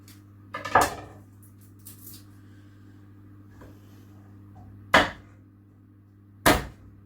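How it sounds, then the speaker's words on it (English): Knife strikes on a cutting board while a garlic clove is chopped and crushed: a cluster of sharp hits near the start, then two separate loud impacts later, close up with quiet room hum between. "Then I am going to chop and crush 1 clove of garlic"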